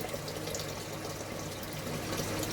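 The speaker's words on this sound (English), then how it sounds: "I'm sending just the strike water through the Hermes" Home-brew strike water pumped from the hot liquor tank through a HERMS coil gives a steady, even rush and gurgle of liquid with a low pump hum underneath, continuous and moderately close.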